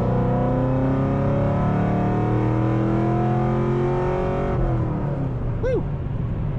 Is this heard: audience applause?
no